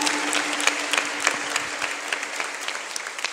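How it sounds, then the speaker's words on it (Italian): Dense, continuous applause from an audience after a performance, many hands clapping steadily with a few sharper individual claps standing out over a faint background hum. "Voglio ringraziare Tony che ha scritto il testo, quindi un applauso."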